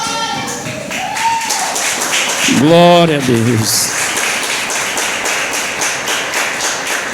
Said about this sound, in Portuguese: Aplauda Jesus aí.